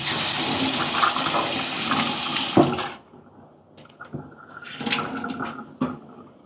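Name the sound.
running water dampening a cleaning cloth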